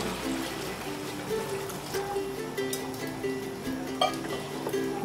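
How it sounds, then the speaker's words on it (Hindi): Water from a large mug poured into a cooking pot of Peshawari namkeen gosht (salted meat), a steady close splashing trickle running throughout with no talk. "तकरीबन मैं इसमें एक बड़ा मग पानी का डालूंगी।"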